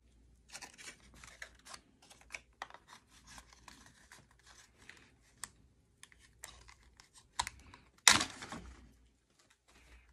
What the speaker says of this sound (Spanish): Vamos a quitarle el cincho que trae. Vamos a cortarlo.